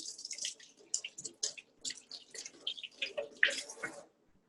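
Kitchen tap water splashing over vegetables being rinsed, a faint, uneven run of splashes and drips under the stream, stopping at the end.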